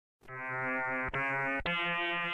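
Wolfenstein 3D chain gun pickup sound effect: a buzzy synthesized tone in three quick back-to-back pulses, clean and alone, lasting about two seconds.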